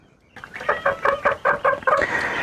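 A Sussex hen gives a quick run of about seven clear, rhythmic clucks up close, loud and alone after a brief quiet start.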